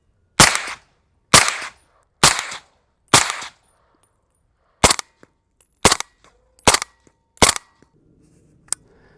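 Eight suppressed rifle shots through a SureFire SOCOM-300 SPS suppressor, four supersonic rounds then four subsonic ones, each a sharp, loud crack with a brief tail, fired at an even pace with a short pause between the two groups.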